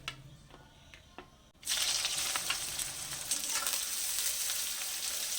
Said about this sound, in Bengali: তেল আর ঘি গরম হয়ে গেছে এবার আমি পেঁয়াজগুলো দিয়ে দিচ্ছি